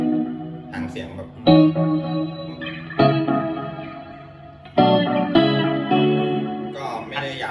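Electric guitar played through a vintage Delay Llama analog delay pedal, several strummed chords each ringing out with repeating echoes and reverb tails, loud and close with no talking.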